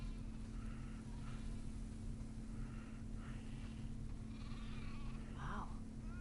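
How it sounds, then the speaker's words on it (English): Sheep in a farm setting in The Last of Us Part II give several bleats of varying pitch over a steady low ambient hum, the loudest call coming near the end. "Wow, that's a lot of sheep."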